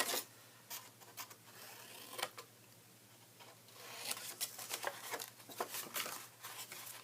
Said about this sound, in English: just cut some little V's